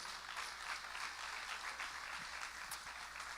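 A church congregation claps steadily and continuously, a dense, even wash of applause without any voices over it.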